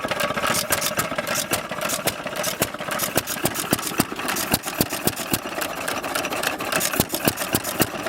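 A 1920s Novo 3 hp Model S upright hit-and-miss engine runs nearby, its rapid regular mechanical clatter and knocking steady and loud throughout, with a worn, wobbling cam gear and no talk.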